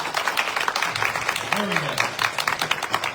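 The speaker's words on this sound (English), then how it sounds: "Let's applaud for these candidates." Audience at a school board candidates forum gives a second, fuller round of applause, steady dense clapping throughout while a person speaks briefly over it.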